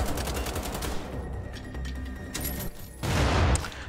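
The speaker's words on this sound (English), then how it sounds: "PJ is currently dual-wielding assault rifles." Dual-wielded assault rifles firing in the shooter game Wolfenstein: The Old Blood, a loud, sustained stream of rapid gunshots with no break, growing heavier toward the end.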